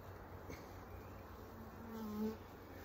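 Honeybees buzz around a single-deep beehive made from a split, a steady soft drone with a few individual bees droning past close by, faint overall.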